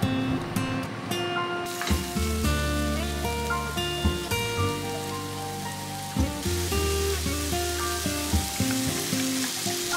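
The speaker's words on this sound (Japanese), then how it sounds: "パスタを茹でてる間にきのこをバターで炒めていきます" Three kinds of mushrooms sauté in butter in a pan for a Japanese-style tuna pasta, a steady close sizzle running throughout under background music.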